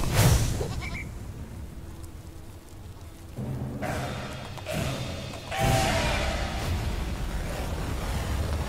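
Goat bleats from the video game Goat Simulator 3, a few sharp cries cutting in and out over a busy game backdrop with thuds and shifting noise, fairly loud and close.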